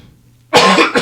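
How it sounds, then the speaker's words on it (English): A person gives one sharp, loud cough up close after a brief near-silence, with a short second burst trailing at the end. "You're coughing."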